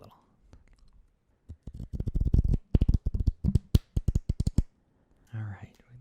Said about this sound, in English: All right, those are nice and thoroughly shuffled.